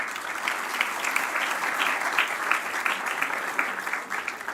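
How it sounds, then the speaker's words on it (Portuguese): Audience applause at a customer experience conference panel as a guest is invited onstage, a sustained crowd clapping with distinct individual claps audible, fairly close and even throughout. "convidar ao palco o Armando Silva, por favor, uma salva de palmas."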